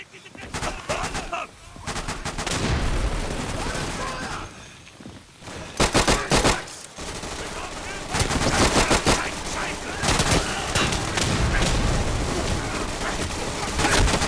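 Rapid gunfire and machine-gun bursts rattle almost without pause in the video game Day of Infamy, loud and dense, with brief lulls and a few heavier booms.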